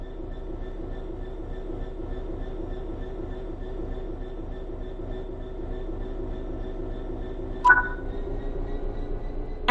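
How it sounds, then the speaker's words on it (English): A train in Train Sim World 4 pulls away from a stop with a steady low mechanical hum and rhythmic ticking, joined by sustained electric tones and a brief sharp hiss near the end. "Apply some throttle to get the train moving."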